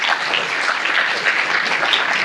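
An audience at a DevFest tech conference claps for a speaker coming on stage, giving a dense, steady burst of applause that is loud and continuous throughout.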